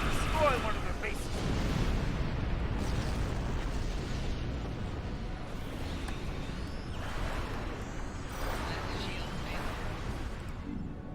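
A bomb blast destroys an enemy base in the space game Star Trek Online, starting as a dense low rumbling burst that rolls on into a long, noisy wash of explosion debris, loud and close throughout.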